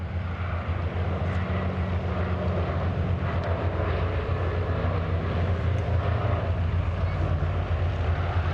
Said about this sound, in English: Touching down on the grass, the aircraft captained today by former RAF Andover and Hercules pilot Derek Head.